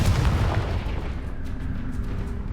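A Confringo blasting spell explodes in Hogwarts Legacy with a loud, deep boom up front, followed by a rolling low rumble and crackling debris that tails off, without speech.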